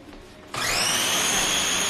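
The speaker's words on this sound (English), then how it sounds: "I'm just going to blend that in a food processor" A food processor starts up abruptly and runs at a steady loud whirring roar while blending vegan pizza ingredients, close by with no talking.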